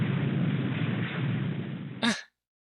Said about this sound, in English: Something loud, like an explosion.